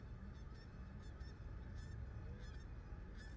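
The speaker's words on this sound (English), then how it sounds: "we just saw a whole bunch of geese, you know, just right over here" A flock of geese honks repeatedly from a lake, bursts of calls overlapping at irregular intervals over steady outdoor ambience, moderately distant and fairly faint.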